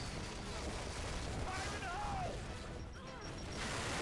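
Explosion of a group of enemies blowing apart cover in Gears of War 3 sounds as a dense, continuous roar of blasts and crashing debris at steady loudness, with a voice speaking over it.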